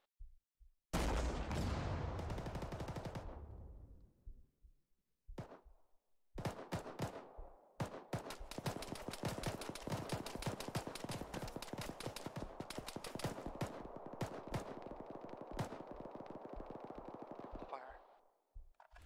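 Arma 3 firefight gunfire: a burst of shots, then after a short gap a long stretch of rapid, crackling automatic fire that is loud and close, with a few separate shots around it.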